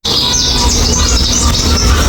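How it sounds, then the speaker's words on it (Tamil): Small sparrows chirp overhead inside the Grand Aquarium in Hurghada, a loud, continuous tangle of high tweets over a busy indoor hum. "எனக்கு தெரிஞ்சு குருவி மேலே குருவி இருக்குது"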